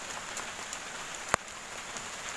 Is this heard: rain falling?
yes